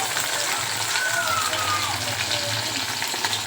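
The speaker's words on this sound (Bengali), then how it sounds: "এখানে বাটা মাছগুলো ভেজে নিচ্ছি" Bata fish frying in hot oil, a steady dense sizzle and crackle that continues evenly throughout at a moderately loud level, with no pauses.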